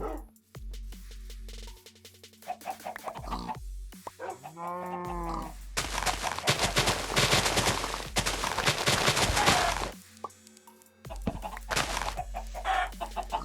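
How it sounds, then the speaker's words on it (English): Minecraft chickens in Sky Factory 4 cluck in short repeated bursts amid game sound effects, including a loud dense stretch of rapid clatter in the middle and low background hum. "I can't even kill this chicken."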